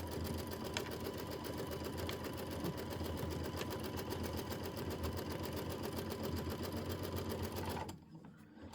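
Steady, rapid mechanical whir of a sewing machine stitching a pieced quilt block, running evenly at close range before cutting off abruptly near the end.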